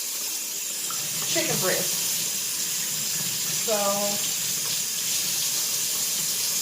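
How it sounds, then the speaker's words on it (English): Tap water runs steadily into a cooking pot being filled to cover chicken breasts for BBQ pulled chicken, a continuous hiss under brief speech from a nearby voice. "fill my pot up with water"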